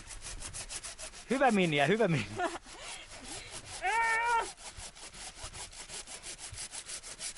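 A hand saw cutting through the trunk of a Christmas tree in a rural Finnish forest, with rhythmic back-and-forth rasping strokes, near and steady. Voices speak briefly before and between the strokes.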